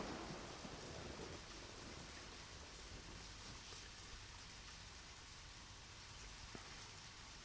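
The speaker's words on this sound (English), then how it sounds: "Still raining, so we are gonna continue sleeping." Rain falling in the video game Deadly Premonition: a steady, even hiss of downpour that holds at the same level throughout, with no voices over it.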